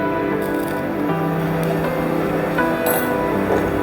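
Soaked barnyard millet is stirred with water and salt in a pot, giving wet squishing and light scraping sounds over a steady background hum.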